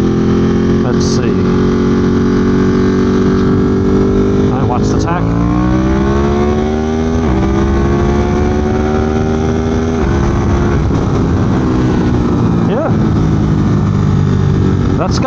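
A 2022 Ducati Monster+ accelerating in a roll-on, its engine note climbing loud and close with a few stepped pitch changes as it pulls, while a rider talks over it.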